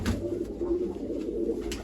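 Racing pigeons handled for release give soft, low cooing and rustling, close and continuous for a moment with no talk.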